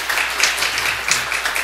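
Church congregation clapping during a Friday prayer service, a quick, fairly loud burst of many hands with a few pulsing accents.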